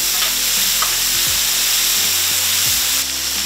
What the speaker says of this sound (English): We want this to get a nice sear.